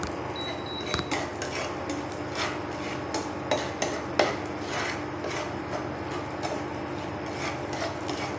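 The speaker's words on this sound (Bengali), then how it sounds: "এবার একটু ভেজে নেবো লঙ্কাটাকে।" Green chilies frying with asafoetida in ghee, a low sizzle under repeated scraping and metallic clinks of a spoon on the pan, close and moderately loud, no voices.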